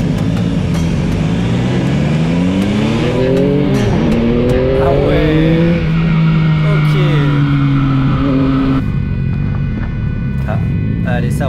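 A Yamaha MT-09 motorcycle accelerating hard, its engine pitch climbing steadily through several rising sweeps before settling, loud and close throughout.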